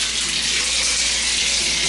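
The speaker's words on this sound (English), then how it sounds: "I'm going to turn on the hot water." Hot water blasts from a tap onto clean tiles, a steady, loud, close hiss and splash with no pauses and no voices.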